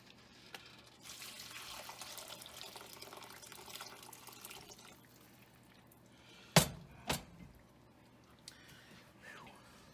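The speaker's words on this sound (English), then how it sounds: "The liquid coming through." Bison bone stock trickling through cheesecloth makes a soft, steady pouring wash for several seconds, then quiets; two sharp clinks follow near the end.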